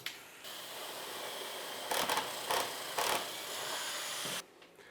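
A power drill bores a hole through a drill template set into a domino hole for a mobile workbench, a steady whirring motor drone with three brief louder surges as the bit bites, then a sudden stop.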